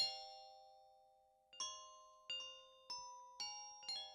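Sampled bell notes from a Kontakt library: one long ringing strike decaying for over a second, then five evenly spaced bright chimes, clean and close with no voices.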